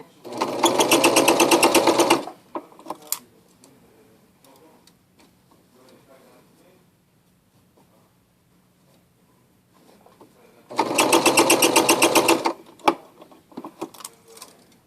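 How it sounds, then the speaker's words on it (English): Sewing machine stitching a circle on knit fabric, with two loud, close bursts of rapid mechanical stitching separated by a long quiet stretch of faint handling clicks and rustles. "So you have to make your fabric into a straight line when you're sewing a circle."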